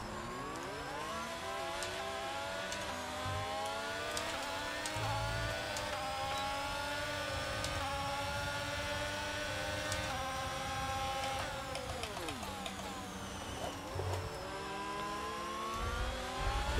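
A race car engine in a racing video game on the final lap at Bahrain, whining steadily as it revs up and down through gear shifts, with other cars droning along nearby and no talking.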